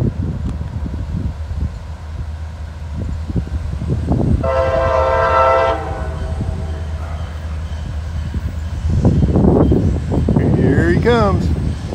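A CSX freight train rolls slowly through on its way into a siding, its horn sounding one sustained blast mid-clip over a steady rumble of rail noise and wind, with a brief higher squeal near the end.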